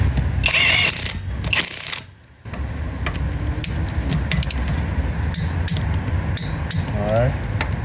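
A Makita impact wrench tightening car lug nuts, heard as a loud rattling hammer burst, a brief pause, then steady mechanical clicking and whirring with sharp ticks, close to the microphone.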